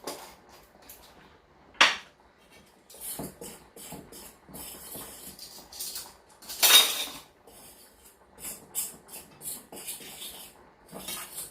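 A utensil mixing seasoning in a bowl while cooking, giving scattered metallic clinks and scrapes, with a couple of sharper knocks and clusters of quick taps toward the end, fairly quiet overall.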